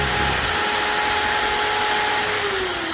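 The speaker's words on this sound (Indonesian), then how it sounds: "Saya pakai bor yang lebih cepat" A fast electric drill spins steadily while polishing the valve stem of a Sharp Innova airgun, giving a loud continuous high whine with a slight pitch drop near the end; no talking.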